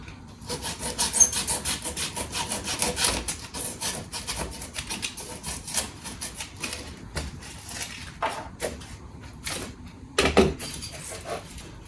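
Landscape pieces for an N gauge model railway are trimmed with repeated close rasping and sawing strokes in uneven bursts, separated by short pauses.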